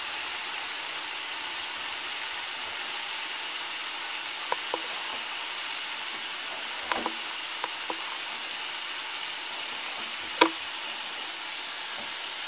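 Shrimp frying in hot grease, a steady soft sizzle and hiss throughout with a few faint knocks and pops, no voices.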